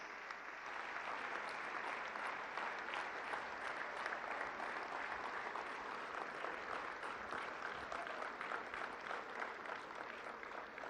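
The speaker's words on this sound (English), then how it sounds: "for his address with a thunderous round of applause" A large summit audience gives Indian Prime Minister Narendra Modi a sustained round of applause at a global Ayush investment and innovation summit, a steady, even wash of clapping heard from a distance and quite faint.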